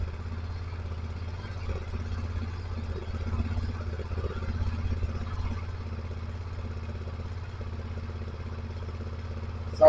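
A BMW F900 XR motorcycle engine idles steadily at close range, a low continuous rumble with faint mechanical clatter and no talking.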